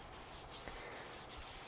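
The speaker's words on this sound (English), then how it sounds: "I'll put the 360 back on this pad." A 360 grit sanding pad rubs across the body of a scratch-built electric guitar in quick back-and-forth passes, a soft close scratching hiss repeating in a steady rhythm with brief dips between strokes.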